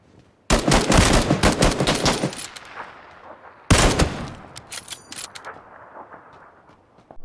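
Gunfight in PUBG on Xbox with a sniper rifle at close range: two loud bursts of rapid gunfire, the first lasting about two seconds and the second starting a few seconds later, each trailing off into echoing shots.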